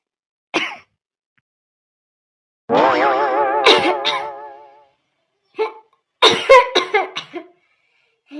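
A cartoon character, an elderly person in an Awadhi comedy, coughs in short bursts: a single cough, then a long strained vocal fit, followed by a few more rough coughs, close and loud against silence.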